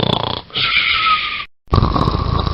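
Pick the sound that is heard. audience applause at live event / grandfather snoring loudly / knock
grandfather snoring loudly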